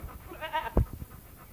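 Goats on a farm bleat in a short burst, one loud wavering call standing out close by, with fainter farm background around it and no talking.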